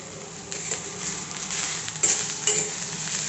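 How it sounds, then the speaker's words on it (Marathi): Sesame and poppy seeds sizzle in a pan of frying onion while a mutton curry is being made, a steady close crackle with a few louder stirring scrapes and no talking. "कांदा परतत आला आणि त्याच्यावरती हे टाकलं ना की ते खसखस आणि तीळसुद्धा चांगलं परतलं जातं"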